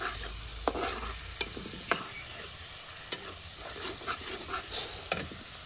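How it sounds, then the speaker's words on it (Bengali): A spice paste with onions and green chillies fries in a pan while a spoon stirs and scrapes it in irregular, sharp strokes over a quiet, steady sizzle, with no talking. "মশলাটা ভালো করে কষে নেব।"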